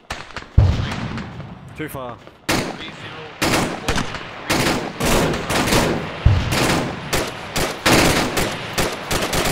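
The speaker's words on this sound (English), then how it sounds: "I hear gunfire." Rapid bursts of gunfire and heavy reports in the ArmA 3 military shooter, repeated sharp volleys and automatic fire at varying distances, with players talking briefly over the shooting.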